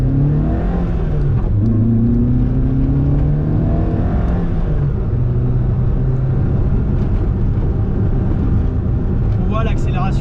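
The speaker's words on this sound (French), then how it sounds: "On voit l'accélération assez engageante de la voiture." A 1995 Peugeot 106 Rallye 1.3 accelerating, the engine note climbing through the revs in a loud, close, sustained drone with a gear change, while someone talks over it.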